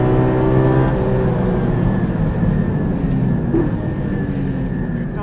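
A Porsche 718 Spyder laps the Charade circuit during a Porsche Days track session, its engine a loud, steady, close drone with a sustained harmonic whine throughout.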